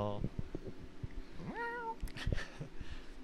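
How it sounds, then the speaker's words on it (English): A domestic cat gives one clear, close rising meow, with soft indoor knocks and rustles around it and brief bits of background noise. "That's a good meow."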